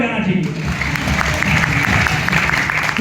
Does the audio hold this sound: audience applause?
yes